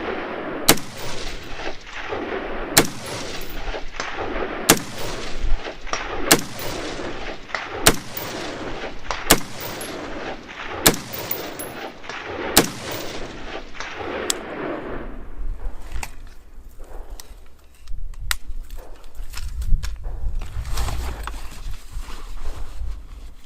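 An AR-15 rifle, the FIXIE LT, fires about nine evenly paced shots outdoors. Each sharp crack carries a short echo, and quieter rustling and handling follow.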